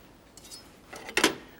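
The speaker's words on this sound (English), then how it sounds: "We'll stir that garlic up just a touch." A few light scraping clinks of a utensil stirring garlic in a pan, ending in a brief louder scrape; quiet and close, with no talking.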